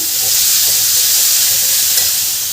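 Grated carrot for halwa sautés over medium heat, a dense, even sizzling hiss that stays loud and steady throughout.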